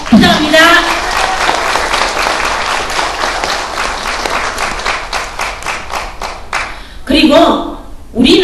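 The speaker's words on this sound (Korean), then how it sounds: "우리가 박수 한번 격려의 박수 부탁합니다" Loud audience applause at a briefing on Pacific War victims' compensation claims, many hands clapping steadily for several seconds, fading briefly before a final burst near the end.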